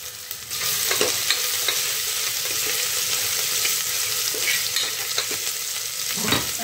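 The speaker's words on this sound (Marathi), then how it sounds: "मी काय करते आता याच्यामध्ये हे आलं लसणाची पेस्ट टाकून घेते" Ginger-garlic paste fries in hot oil in a pan, a loud continuous sizzle with stirring scrapes and pops running through the whole stretch.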